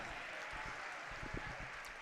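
A seated audience gives a steady round of applause for Dr. Sachin Sharma at a lecture event. The clapping is faint and even, with a soft hiss of many hands and a few low thumps.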